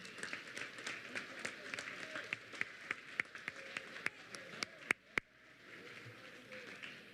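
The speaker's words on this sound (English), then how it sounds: "let's give a round of applause to our juniors" An awards-ceremony audience applauds high school juniors, a steady fairly distant wash of clapping with a few sharper nearby claps standing out before it thins near the end.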